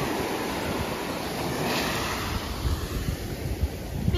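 Ocean waves roll in at Makaha Beach, a steady, close wash of surf with gusts of wind buffeting the microphone throughout.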